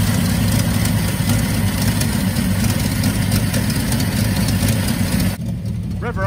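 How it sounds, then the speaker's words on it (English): A 1962 Bedford TJ truck engine runs loud and close with a rough, pulsing mid-to-low drone throughout, easing off slightly near the end as a faint voice is heard underneath. "Rev her up."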